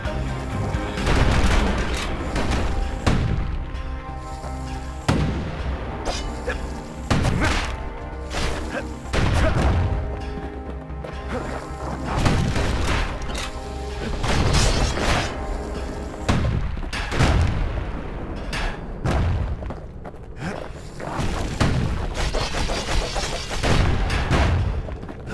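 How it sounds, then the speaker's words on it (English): Musket shots fire again and again in the video game Bastion, loud close blasts and booms repeated in irregular bursts over a musical backdrop for about twenty-five seconds. "Kid's blasting everything in sight with that newfangled musket."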